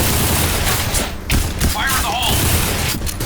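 XM8 rifle gunfire in the shooter game Point Blank, heard as dense rapid bursts and booming shots running throughout, mixed with game effects and a player talking over the action.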